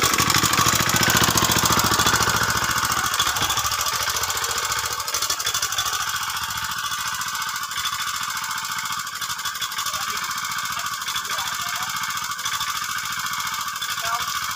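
A loud engine chugs steadily with a rough knocking rhythm that eases a little partway through, as voices talk faintly in the background.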